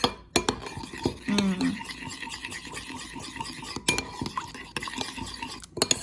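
Shrimp marinade with crushed pepper is mixed around in a bowl, giving soft wet stirring and light utensil clinks close by, with a few sharper taps scattered through.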